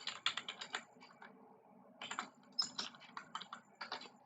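Computer keyboard typing while entering input for a Python program, two close bursts of quick, uneven key clicks separated by a short lull.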